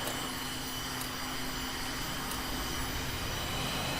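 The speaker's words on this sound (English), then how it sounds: "Right, let's get the engine spooling up." A jet engine on an aircraft in the VTOL VR flight game, set up for carrier landings, holds a steady, even roar with a faint high whine throughout.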